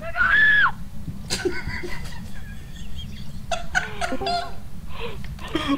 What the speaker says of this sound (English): All I heard was a scream.